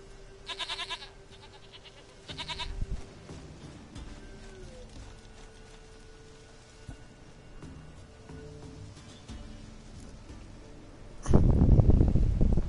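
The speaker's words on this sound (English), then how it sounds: "Goat of mine, dearest, sweetest goat." A goat in the video game Witcher 3 lets out a couple of short bleats amid quiet ambient game sound, followed by a louder rustling burst at the end.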